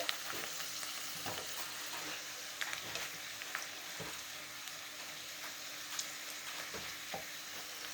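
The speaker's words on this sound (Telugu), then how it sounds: "ఇది గోల్డెన్ కలర్లో వచ్చే వరకు వేగాలండి." Dried red chillies and curry leaves crackle in tempering oil for a lentil dal, a dense, even frying hiss with small pops and occasional stirring strokes throughout.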